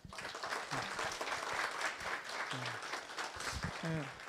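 An audience at a Korean acoustics panel discussion applauds its volunteer lecturers, a steady burst of many hands clapping lasting several seconds, with a voice speaking faintly over it.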